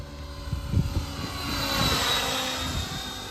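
A radio-controlled helicopter flies with a continuous high rotor and motor whine, rising and swelling as it manoeuvres, with a few soft low thumps early on.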